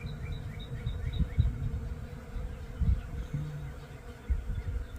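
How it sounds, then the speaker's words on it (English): Honey bees buzz around a tree outdoors in spring, a faint, steady hum with a few passing insects over low rumbling breeze noise. "The bees are all over this tree."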